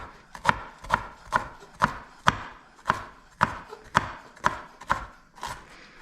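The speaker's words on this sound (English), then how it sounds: "So we're just going to go ahead and mince this up" A knife chops rhythmically on a cutting board while mincing food, about a dozen crisp, evenly spaced knocks close up, with nobody talking.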